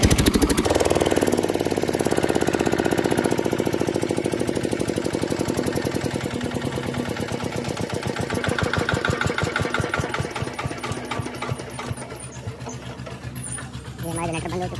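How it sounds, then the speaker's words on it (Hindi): A generator engine running loudly and steadily up close throughout, with a rough, pulsing mechanical drone and no pauses. "अभी हम जनरेटर वापस बंद कर देंगे"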